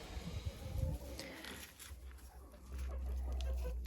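Laying hens in a coop with litter on the floor cluck softly here and there over a low steady rumble and scattered rustling, fairly close but quiet.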